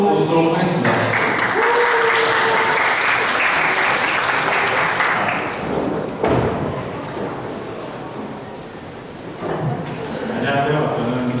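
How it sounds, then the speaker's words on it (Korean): Conference audience applauding to welcome a game developer presenter onto the stage, dense sustained clapping from a large crowd that swells and then thins toward the end, with murmuring voices mixed underneath. "그럼 이번 세션의 발표자 정병우님을 큰 박수로 모시도록 하겠습니다."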